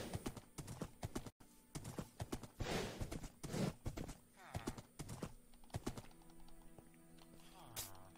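Game horse in Minecraft Bedrock Edition, with soft clip-clopping hoof steps and a snort or whinny, heard faintly alongside keyboard clicks and intermittent speech.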